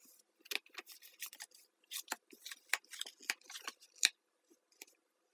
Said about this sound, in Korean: 이 카드도 뽑아볼게요.